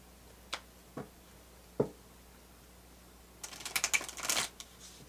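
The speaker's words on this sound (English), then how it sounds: "Gonna give this a good shuffle." A few soft taps, then a quick riffling flutter of cards being shuffled, close and quiet.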